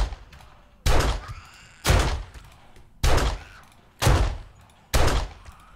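Five loud pistol shots from 7 Days to Die fire about one second apart in an even rhythm, each a sharp crack with a short decaying tail.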